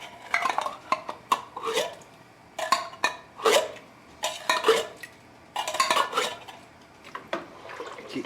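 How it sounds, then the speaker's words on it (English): Italian wedding soup stirred in a pot, a spoon scraping and clinking against the metal in irregular nearby bursts with faint liquid sloshing, no talking. "Keep stirring."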